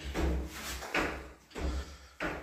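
A door in the men's toilets of an abandoned discotheque knocks and creaks through several opening and closing movements, close and fairly loud.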